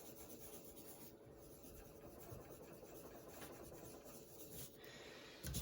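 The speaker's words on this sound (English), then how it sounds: "you're burnishing, blending the pigment and the paper together" A colored pencil burnishes paper in continuous, quiet scratchy rubbing strokes that blend pigment into the sheet, with one slightly louder scrape at the end.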